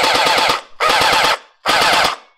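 A P90 V4 gel ball toy blaster fires full automatic in three loud, close bursts of rapid rattling shots with short gaps between them and no talking.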